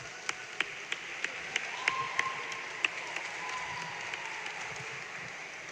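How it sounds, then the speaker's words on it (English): A volleyball gym crowd gives scattered, sparse applause for former athletes, with distinct individual claps ringing out over a quiet hall murmur. "Please join us in giving them a warm round of applause."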